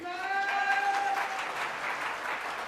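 Steady applause from an audience at a network marketing training session, a dense, even wash of clapping throughout with a brief tonal sound fading near the start and no speech.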